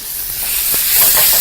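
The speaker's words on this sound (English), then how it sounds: "I'm going to start off by first frying that up to get it nice and hot" Masala sauce for chips masala hisses and sizzles in a hot pan, a steady bright frying sound that swells slightly, close and fairly loud.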